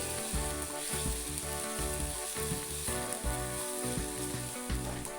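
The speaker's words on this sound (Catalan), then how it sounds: "He picat la ceba i ara la posaré a sofregir a la cassola." Chopped onion sautés in olive oil in a casserole, a close continuous crackling sizzle with a rhythmic pulsing undertone and no speech.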